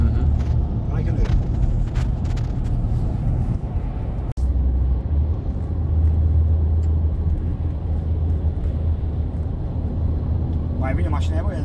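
Dacia 1300 running on the road, a steady low engine drone with rumbling road noise from inside the car, holding fairly even throughout while someone talks over it.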